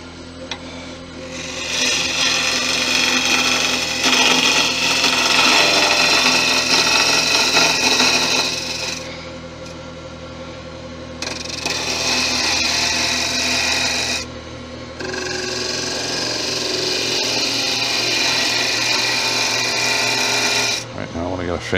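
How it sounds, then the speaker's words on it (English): Lathe tool taking a finishing cut on the outside of a Balinese teak bowl, a close scraping rasp over the lathe's hum in long bursts with pauses between passes. "Finish cut on the outside of this bowl."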